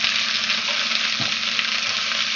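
Grated carrot stir-fries in hot oil for Szechuan shrimp, a dense, steady close sizzle with a single soft knock of a utensil partway through, no voices.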